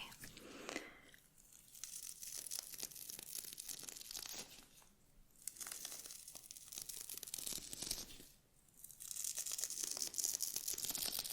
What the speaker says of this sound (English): I'm just going to go in with this brush now, just to brush through your hair